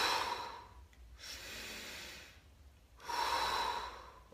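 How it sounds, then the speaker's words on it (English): Slow, deep breaths drawn in through the nose and down into the belly: two long, audible inhales separated by quieter exhales, close and clear, with no speech. "we want to be breathing through the nose"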